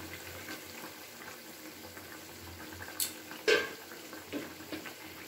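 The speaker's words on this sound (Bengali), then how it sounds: "ঝোলটা কিন্তু খুব ভালো করে ফুটে গেছে" Khoira fish curry gravy with vegetables boils in an uncovered pan, a steady low bubbling hiss up close, broken by a few sharp clinks of a utensil against the pan.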